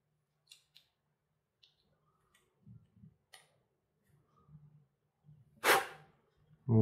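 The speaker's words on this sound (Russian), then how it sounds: "Видите, все становится на щелчок." Small resin scale-model wheel parts snap into a rim, giving a few light, sharp clicks spread apart, then a louder close snap and handling noise near the end.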